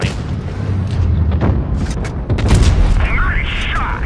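A tank cannon fires in a tank video game, a deep booming blast with crackling impact noise amid mechanical rumble, with someone commentating over it.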